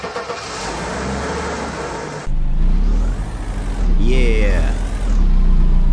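Video game car engine revving loudly as the car is moved, a steady engine drone that climbs and swoops in pitch, with a brief shout over the start and game music or noise before it.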